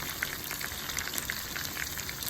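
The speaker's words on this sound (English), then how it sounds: "I'll let you listen to the little sound of the oil for just a few moments." Curly fries sizzle steadily in hot oil in a pan, a close, even crackle and hiss with scattered pops, alone without talk.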